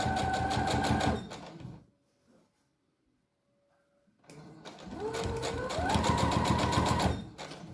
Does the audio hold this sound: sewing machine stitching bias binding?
yes